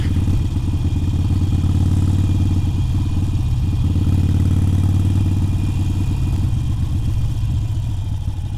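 A Harley Iron 883 motorcycle rides steadily in first gear along a rough, potholed road, its loud low engine thrum constant and close throughout.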